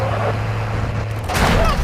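Gunfire from the mobile shooter game Warzone Mobile, a burst of shots near the end over a dense, constant in-game noise bed.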